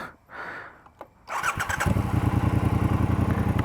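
Quiet rustling gives way to a Triumph Speedmaster motorcycle engine cranking and catching, then settling into a loud, steady rumbling idle close by.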